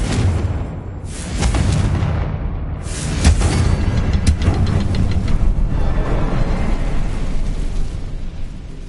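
Confringo fire-blast spell in Hogwarts Legacy, a loud rumbling explosion that repeats in heavy crackling bursts, with roaring fire and debris continuing throughout.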